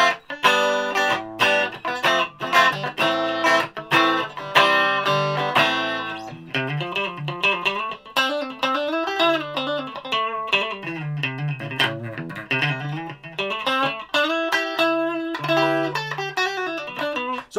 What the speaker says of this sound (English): I think that's a pretty good clean sound.